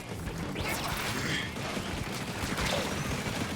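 In Splatoon 3, the crab tank unleashes a rapid barrage of bursting, splattering shots with clanking mechanical noises, loud and busy across the whole moment.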